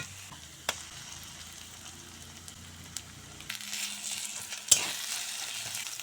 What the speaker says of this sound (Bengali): এখন শিমের বিচি আর মসুর ডাল বাটা একটু নেড়ে চেড়ে কষিয়ে নেব।